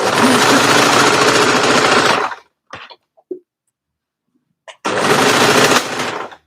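A domestic sewing machine stitches knit fabric for an edge-to-edge cardigan in two loud, fast, continuous runs of rapid mechanical chatter. A short quiet gap between them holds only a few faint clicks and taps.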